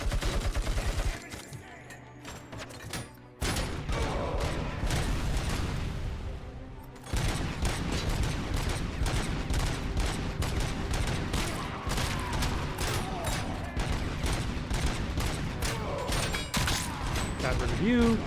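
Rapid bursts of gunfire and impacts from the RoboCop Rogue City video game, with dense, sustained shooting throughout and a short lull near the start, mixed with game mechanical clatter while a player talks.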